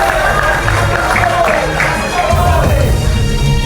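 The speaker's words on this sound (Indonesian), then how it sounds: "kita berikan tepuk tangan untuk Mas Roy Sini, Suryo" Studio audience applauding and cheering throughout a live Indonesian evening talk show, a steady crowd roar with whoops and shouts at moderate volume, no speech over it.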